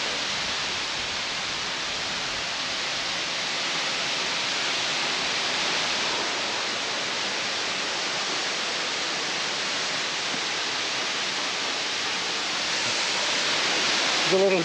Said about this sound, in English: We've got a secret waterfall to discover.